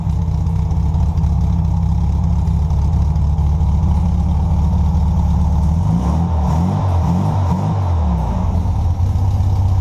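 A loud rebuilt VW engine idles with a steady, throbbing rumble close by, then revs up and down a few times before settling back.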